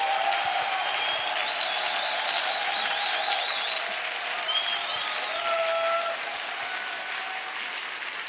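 A church congregation claps in sustained applause to acclaim the Lord, a full, even roar of many hands with faint cheering voices woven in, lasting the whole eight seconds.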